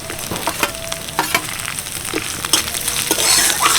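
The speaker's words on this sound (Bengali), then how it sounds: "এক চামচ মতো গ্রেট করা আদা সামান্য একটু হিং হালকা একটু নেড়ে চেড়ে নিচ্ছি এবার দিয়ে দেবো কয়েকটা কাঁচা লঙ্কা কুচি" Grated ginger, asafoetida and chopped green chillies frying in a pan while being stirred; a steady close sizzle with scraping spoon strokes throughout.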